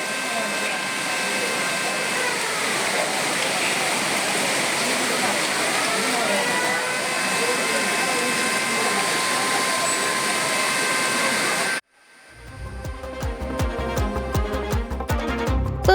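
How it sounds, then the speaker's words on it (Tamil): Flooded main waterfall at Courtallam rushing in a steady, loud, broadband roar for about twelve seconds, then cut off abruptly as unrelated music begins. "குற்றாலம் மெயின் அருவியில் திடீர் வெள்ளப்பெருக்கு ஏற்பட்டது"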